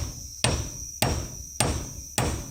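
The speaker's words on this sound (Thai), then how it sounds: "เห็นบ่คนตอก" A hammer pounding outdoors in four evenly spaced, sharp, loud blows, each ringing briefly before the next strike, with a steady high insect-like whine behind them.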